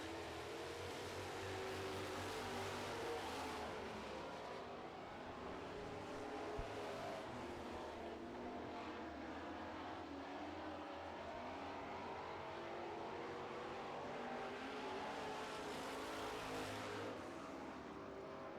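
Super trucks roar around a racetrack during a feature race, a steady loud blend of engines with rising and falling passes, continuous throughout.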